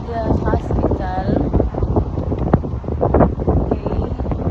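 Wind blowing beside a highway in Ann Arbor, Michigan, heard as steady low rumbling buffeting against the microphone, with a person talking over it throughout.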